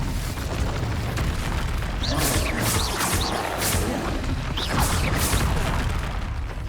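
Confringo explosion spell in Hogwarts Legacy, a steady roar of booming blasts and crackling bursts with whooshing spell effects over dense, loud combat noise.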